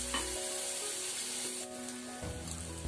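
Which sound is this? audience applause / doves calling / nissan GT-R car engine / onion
onion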